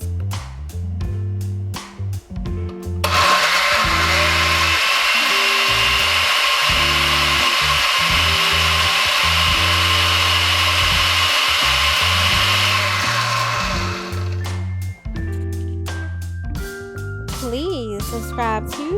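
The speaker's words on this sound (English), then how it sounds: "I put my blender on the milkshake setting and I let it blend for about" A blender on its milkshake setting whirs through strawberries and almond milk for a smoothie, a loud steady grinding roar lasting about eleven seconds, with background music playing under it before and after.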